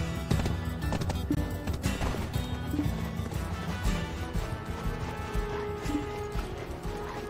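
Horse hooves clip-clop steadily in Black Desert Online, a close, continuous rhythmic plodding with some mechanical clatter mixed in.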